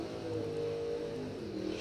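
Chevy II drag race car at a bracket race, its engine a loud, sustained roar with a steady pitch that shifts slightly, heard briefly without any voices.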